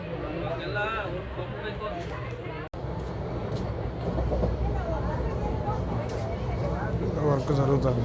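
Tirupati Express pulling away from Bangalore Cantonment station, a steady broadband rumble of the moving train with a brief dropout partway, rising slightly near the end, with background chatter throughout.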